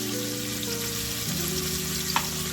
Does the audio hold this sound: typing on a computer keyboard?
no